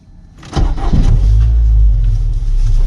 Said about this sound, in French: tu sens le moteur qui est vraiment là